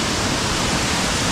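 Steady, dense roar of a waterfall inside a cave behind the falling water, a loud continuous broadband rush with no pauses, heard alone without voices.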